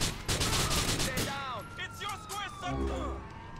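Bursts of gunfire in the game GTA IV: rapid volleys loud at the start, then scattered shots and whizzing sounds, with a voice talking throughout.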